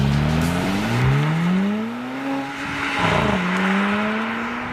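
Mercedes-AMG car with quad exhaust pipes, its engine revving and rising in pitch through several loud, close harmonic sweeps, with no talk over it.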